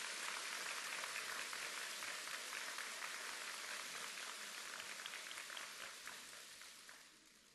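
Audience applause at the SMU university commencement ceremony, a faint, distant, dense wash of clapping that carries on steadily for several seconds and slowly fades.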